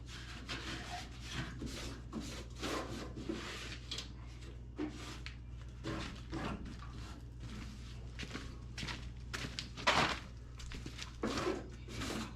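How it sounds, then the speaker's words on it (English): A cloth wipes dust off a surface being prepared for priming, giving faint, soft rubbing strokes repeated in an uneven rhythm over a low background hum, quiet and close, with no voices. "I'm just gonna wipe this down to get some of the dust and everything off of it."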